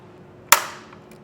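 A center punch strikes the center of a drilled hole in metal while Carr custom-fit side steps are fitted to a 2019 Ford F-150; a single sharp, close crack rings out alone and decays quickly.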